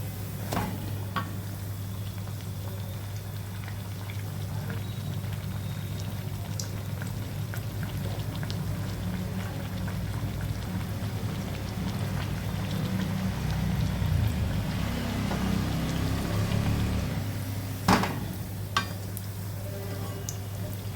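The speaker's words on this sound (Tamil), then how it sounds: "ஓப்பன் ஆகாமல் ஸ்டஃபிங் எல்லாம் வெளியில் வராமல் நல்லா சூப்பராக ஃப்ரை ஆகுது பாருங்கள்" Stuffed Iftar snacks deep-fry in hot oil, giving a steady, continuous bubbling sizzle with occasional light clinks and stirring sounds near the end, with no talking.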